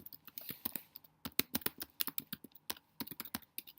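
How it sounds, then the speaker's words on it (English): Rapid, uneven clicking of keys on a computer keyboard as a name is typed, close and fairly quiet, with no talking. "I could go in and type my name"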